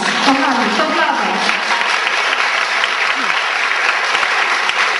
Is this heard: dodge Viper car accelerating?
no